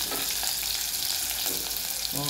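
Onion, garlic and ginger frying in a pan for chole, a steady close hiss and crackle of sizzling with faint stirring scrapes, no voices.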